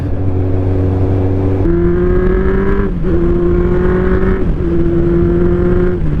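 Kawasaki Z1000 motorcycle engine on the move, a loud, steady drone that rises in pitch through the gears with brief dips at each shift, heard up close with wind rush and no talk.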